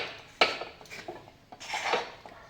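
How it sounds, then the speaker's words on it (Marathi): A spoon breaks up lumps of rice flour dough for modak inside a kadhai, giving a few sharp metallic clinks and scrapes at an uneven pace, close and fairly quiet. "असं चमच्यानी होता होतील तेवढ्या गुठळ्या फोडून घ्यायच्या पिठाच्या कढईतच"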